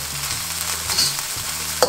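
Salted egg fried rice sizzles and is stirred in a hot carbon steel wok on an indoor burner, a steady close frying hiss with scraping stir strokes throughout and a sharp clank near the end.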